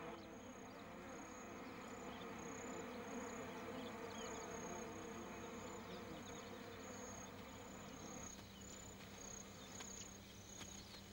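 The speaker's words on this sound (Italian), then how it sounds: "Questo è il momento delle mosche." Flies buzz steadily around an animal carcass in the Serengeti, a close, dense insect drone with occasional higher whines passing by, faint and continuous throughout.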